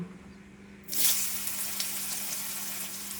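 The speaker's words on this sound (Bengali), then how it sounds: "দিয়ে একটু ভাজা ভাজা করে নিতেছি" Ridge gourd and potato pieces drop into hot oil with cumin, bay leaf and dried chillies, starting a sudden loud sizzle that then settles into a steady frying hiss with faint stirring.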